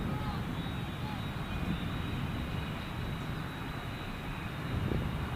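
Aircraft near Gold Coast Airport, heard as a steady broadband engine roar with a faint whine, continuous and even in level throughout, under light background noise.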